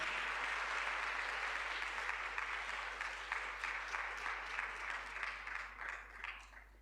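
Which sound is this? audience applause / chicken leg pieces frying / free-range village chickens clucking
audience applause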